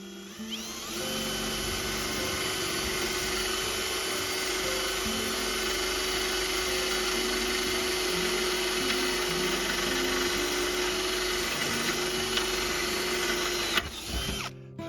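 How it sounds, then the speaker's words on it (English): A power drill bores into diamond plate for a countertop, a loud, steady high whine held continuously for about thirteen seconds before it cuts off abruptly. "Let's see if this drill's any better than."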